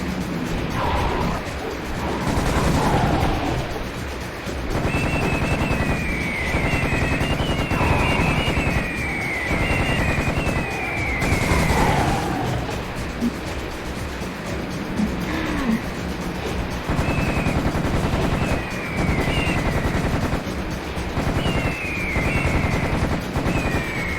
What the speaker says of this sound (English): Boy, another Tommy gun.